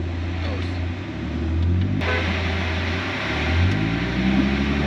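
A supercharged Mercedes SLK320 on a test drive in Mexico after a new coil, wires and plugs were fitted: a steady low engine drone with road rumble inside the cabin while people talk.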